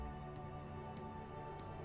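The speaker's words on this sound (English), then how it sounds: "All around you, rain falls on the great city of Revachol. Rain drips from the eaves and floods the gutters," Rain falls steadily over a city street in the video game Disco Elysium, a soft continuous patter of drops and trickling water at low volume under a faint droning tone.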